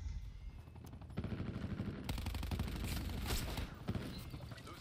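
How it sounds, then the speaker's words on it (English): Rapid automatic gunfire from an attack helicopter in Black Ops 4 multiplayer, dense bursts of shots stacking over other game noise, loudest in the middle and continuing to the end. "The attack heli killed that kid."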